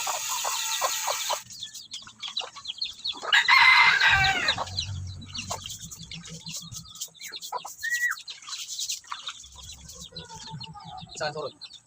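Native jungle fowl (labuyo) chickens cluck and crow in the morning, with a loud rooster crow in the middle and scattered clucks and chirps around it, fairly near.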